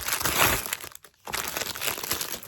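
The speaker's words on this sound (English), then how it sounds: "I know crinkling, everyone's favorite noise." Stiff plastic packaging from a Temu haul crinkles loudly and continuously up close, broken by one brief pause before the rustling resumes.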